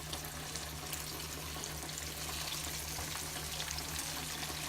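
Pieces of fish frying in hot oil, a steady dense hiss and crackle that stays even and fairly quiet throughout, with no talking.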